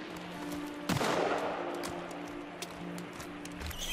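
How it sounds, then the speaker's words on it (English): A single sharp gunshot rings out in the survival game Sons of the Forest, followed by a few fainter pops against a low steady game ambience. "she's trying to shoot the babies"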